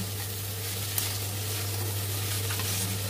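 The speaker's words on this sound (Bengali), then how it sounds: "2 মিনিট বাদে ঢাকাটা খুলে এবার নাড়াচাড়া করব" Banana flower curry with rice cooking in a pan gives a steady, close sizzle and faint stirring scrape, with a constant low hum underneath and no talking.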